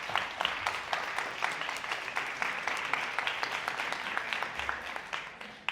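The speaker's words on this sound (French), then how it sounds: "On applaudit encore." An audience applauds a speaker at a women's entrepreneurship conference, with steady, dense clapping that holds at an even moderate level throughout without any talking.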